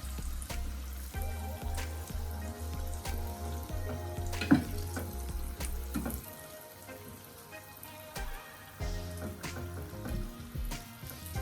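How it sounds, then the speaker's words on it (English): Shrimp deep frying in hot oil give off a steady bubbling sizzle with a low hum underneath, joined by clatters and stirring noises, and the frying softens partway through. "So you want to deep fry your shrimp, guys."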